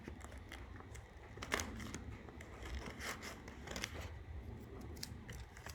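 Paper being cut with scissors while assembling a rectangular prism model, a series of close, crisp snips and rustles over a quiet background.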